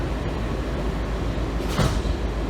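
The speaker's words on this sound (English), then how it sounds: "Step back. Doors open." A Kawasaki 7000-series metro railcar on a red line train opens its doors with a brief sliding thump partway through, over a constant loud low rumble of the train interior.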